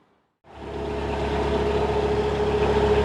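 Cars idle on a busy little road beside a canal lock, a steady low engine rumble that starts abruptly after a brief quiet moment and then holds close and constant.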